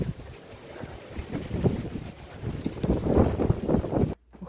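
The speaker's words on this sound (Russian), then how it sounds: "Ветер сильный." Strong wind gusts during a thunderstorm in Edmonton, roaring and buffeting the microphone with loud broadband rumble for several seconds before cutting off abruptly.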